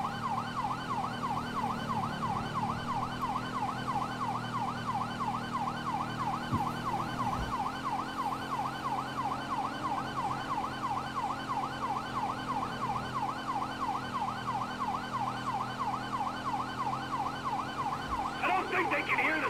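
Police sirens during a car chase in Grand Theft Auto V: a rapid, continuously wailing siren sweeps up and down for the whole stretch over a low engine rumble, loud and close.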